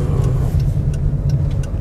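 A car accelerating on a road during a driving lesson, its engine hum steady and close for a couple of seconds with no voices over it.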